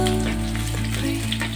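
Shallots and garlic sizzle steadily in hot oil as they are stirred, a close, continuous crackling hiss with faint scraping, no voices.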